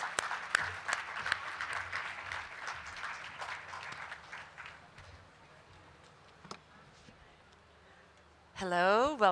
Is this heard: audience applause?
yes